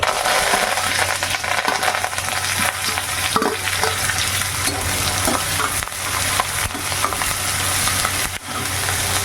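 Mustard seeds, green chillies, curry leaves and onion fry in hot oil for a kovakkai poriyal, giving a loud, steady, dense sizzle and crackle that runs continuously with scattered pops, no voices.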